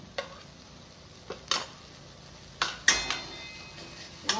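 Ginger garlic paste and spices sautéing in a pan for chole, with a soft sizzle beneath a handful of sharp spoon scrapes and clinks against the metal at irregular intervals.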